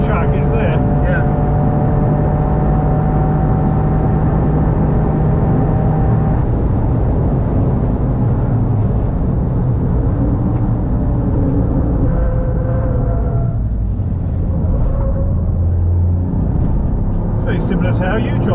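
A Toyota Yaris GR driven hard on a race track, the engine roaring loud and close from inside the car, revs rising and falling through gear changes, with voices talking over it.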